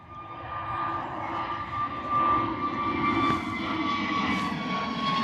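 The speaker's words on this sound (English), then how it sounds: "EasyJet A320 Neo next out the door, off to Alicante this morning." An EasyJet Airbus A320neo takes off into fog at Bristol Airport, its jet engines giving a steady, broad roar with a droning whine that swells slightly partway through and stays moderately loud throughout.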